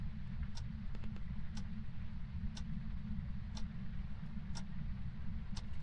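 A car's steady low engine rumble in the ghost-hunting game Phasmophobia, droning continuously with a faint regular ticking like a hazard or indicator clicking about once a second, no speech.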